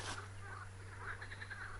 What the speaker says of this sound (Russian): Лягушки невменяемые.